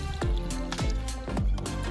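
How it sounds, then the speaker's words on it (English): Aviation fuel is poured back through the filter of a GATS jar during a Cessna 310 preflight, a close liquid pour with several gurgling, glugging bursts in quick succession. "Pour it out through the filter again"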